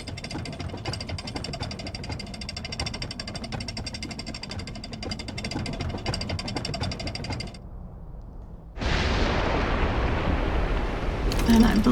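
A dam breaking in the video game Echoes of the Eye: a dense, steady rumbling roar drops away briefly, then returns as a louder, broadband crashing rush that swells toward the end.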